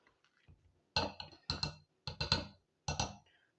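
Boiled leftover rice being mashed with a hand masher in a kitchen, heard as five or six close, soft, squelchy presses in an uneven rhythm, each a short thud with a wet click.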